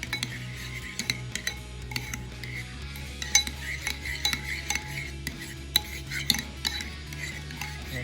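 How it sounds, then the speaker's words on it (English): A spoon stirs a sriracha hot sauce mixture for baked barbecue spareribs, scraping and clinking steadily against the bowl with frequent small metallic taps over a constant low kitchen hum. "Make sure you're stirring it really good so all the flavor or all the different ingredients are mixed together."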